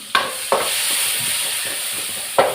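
Onions and potatoes being sautéed in a pan for urulaikilangu kootu, with a steady sizzle and a few sharp stirring clacks of a spoon against the pan.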